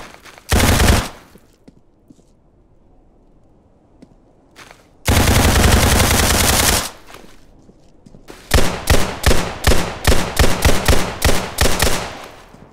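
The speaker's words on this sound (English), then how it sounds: "You can't shoot a loot crate. Instead, the bullets will go through the crate." Automatic gunfire in Roblox Criminality aimed at a loot crate: two sustained loud bursts separated by quiet, then a rapid string of separate sharp shots, all close and alone.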